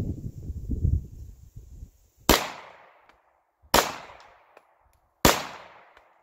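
Three sharp, loud shots from a Taurus TH9 9mm pistol fired with handloaded ammunition, evenly spaced about a second and a half apart, each with a quick decaying echo, after a stretch of soft rustling.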